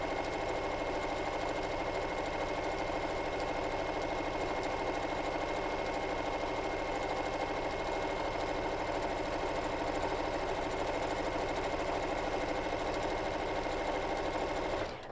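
Sewing machine running steadily and fast while top stitching a Japanese rice bag, a continuous close whirring hum that holds for the whole stretch and stops abruptly at the end.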